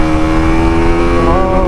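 KTM Duke 200 Pro motorcycle, 2026 update, heard while riding: a steady, loud engine drone with rising harmonic whine as it pulls, continuous with no talk.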